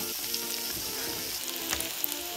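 Bitter gourd frying in a generous amount of oil, an even close sizzle with small crackles and occasional stirring taps.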